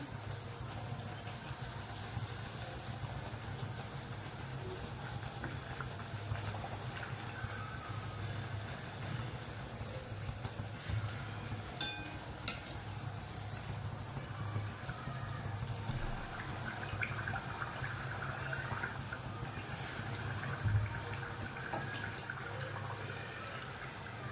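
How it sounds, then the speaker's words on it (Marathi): Puris deep-fry in hot oil at high heat for a festive Navratri offering, giving a steady, low bubbling sizzle that runs unbroken throughout, with occasional faint clinks and no talk. "सुरुवातीला असे जरा थोडस हाय वरती तळायचं नंतर आपण कडक करताना बारीक घ्यायचं"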